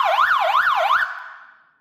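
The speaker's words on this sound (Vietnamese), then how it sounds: "tiếng xe còi cấp cứu" A loud, high-power anti-theft alarm speaker plays an ambulance siren tone: three rapid rising and falling wails, close and piercing, then the last tone fades out into silence.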